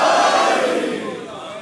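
A large gathering at a Muharram majlis in Karachi answers a chanted slogan with one loud, massed shout that swells at once and then fades out over about a second and a half.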